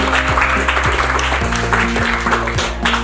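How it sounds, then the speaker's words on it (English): Audience applause at the Buidl Boston event, steady clapping under a sustained musical tone with a repeating bass pattern, loud and continuous throughout. "Give them a round of applause"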